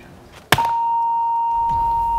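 A sharp click followed by a loud, steady electronic buzzer tone that holds continuously at one pitch, close and clear, at a group-pressure experiment.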